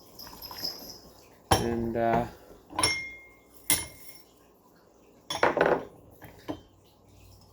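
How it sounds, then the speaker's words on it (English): Gaiwan and tea ware being rinsed before brewing raw pu-erh, with several distinct clinks and clatters of porcelain knocking together, close by, separated by brief pauses and a faint spoken word. "I really give everything a good rinse"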